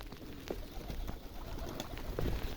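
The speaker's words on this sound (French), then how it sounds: "Je sais pas où ils sont mes pigeons bizets, bah ils sont là-haut." Rock pigeons coo softly in a snowy aviary, low muffled calls repeating at irregular intervals against a faint steady background, with no talking.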